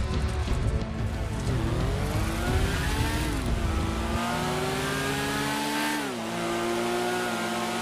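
Motorbike engine revving in the GTA video game, loud and continuous, with rising and falling pitch sweeps as it accelerates and shifts, a drop in rumble around midway, sustained throughout with no talk.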